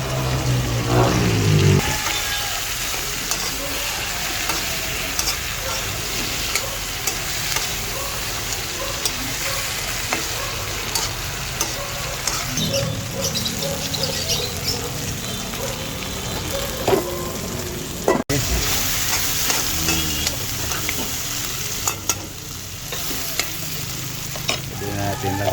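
Garlic sautés in a pan for pork soup: a loud, continuous close-up sizzle with stirring scrapes and occasional spoon knocks for the whole stretch, plus one sharp click near the end.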